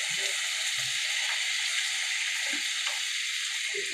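Potatoes go into hot, spiced oil for a kachori filling, and a steady, close sizzle runs throughout, with a few soft low thuds as the pieces land and settle.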